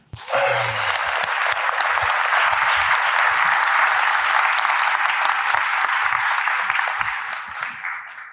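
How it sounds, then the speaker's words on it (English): A large audience breaks into a big round of applause for a guest doctor taking the stage, dense sustained clapping that swells quickly, holds steady for several seconds, then tapers off at the end. "give a big round of applause to my great friend, Dr. Jason Tenori"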